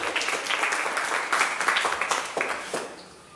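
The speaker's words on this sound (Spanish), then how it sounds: "Denle un aplauso al Señor por la vida de nuestra hija, de su hermana en Cristo." Worshippers at a Sunday church service clap for a church member, a lively round of applause with distinct individual claps standing out, holding strong before thinning and fading near the end.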